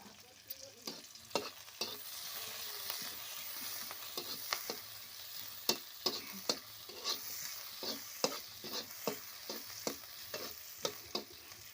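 Onions sautéing in hot oil in a kadai, a steady sizzle broken by repeated scraping and stirring strokes at an irregular rhythm, close and clear with no talking.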